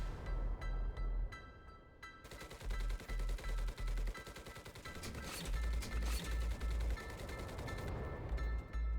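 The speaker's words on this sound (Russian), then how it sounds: "И последнее средство – пушки и пулеметы." Aircraft cannons and machine guns roar in the WWII shooter Enlisted: loud, close bursts of rapid fire, first short volleys, then a long sustained rattling stream before cutting back to clipped bursts, with engine drone beneath and no speech.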